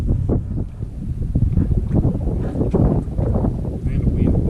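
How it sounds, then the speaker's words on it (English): Heavy wind buffets the microphone while fishing from a boat with planer boards and bobbers, a constant loud low rumble with gusty surges, and someone talks over it. "And the wind blowing."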